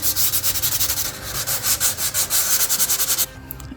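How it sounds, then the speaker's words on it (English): Painted furniture being lightly sanded by hand with 120 grit sandpaper for a rustic bohemian finish: steady rhythmic back-and-forth strokes, close and clear, that stop just before the end. "I'm literally just gonna really softly sand this back, let some of the yellow and some of the colours underneath come through."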